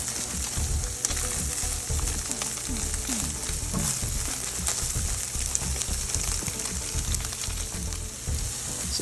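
Food sautéing in a pan for pad thai, a steady close sizzle with frequent scraping and stirring clatter running throughout, no voices.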